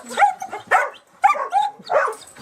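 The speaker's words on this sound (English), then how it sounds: "Crazy dogs. Hello, puppy." Several dogs bark and yip excitedly close by, a quick irregular burst of sharp barks and whimpering yelps with no talk.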